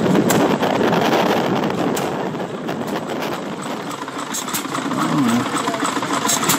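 An old engine at a vintage rally chugs past close by with a loud, rumbling, knocking idle over wind buffeting the microphone, with brief voices in the background.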